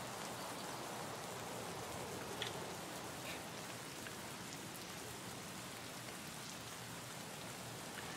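Steady rainfall in the video game Escape from Tarkov, a dense, even hiss of drops on surfaces that runs unbroken for the whole stretch at a fairly quiet, constant level with no voices.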